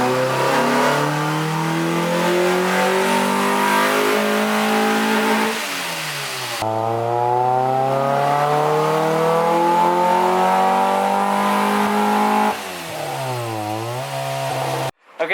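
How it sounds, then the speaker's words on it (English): Low-horsepower Honda car engine on a dyno, revving loud and close in long climbing pulls with rising pitch, a drop to idle between runs and a brief blip near the end. "Okay, let's do this dyno."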